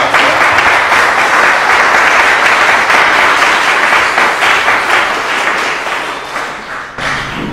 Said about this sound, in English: Do I hear a round of applause for Oyin Damola?